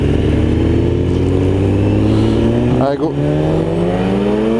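BMW S1000RR motorcycle fitted with an aftermarket exhaust revs and accelerates hard and close, its engine note climbing steadily through the gears with a brief dip at a shift, while a voice speaks over it.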